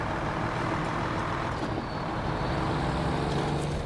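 A heavy truck engine in a video game drones steadily with a broad, rumbling roar that holds constant throughout, with no voices.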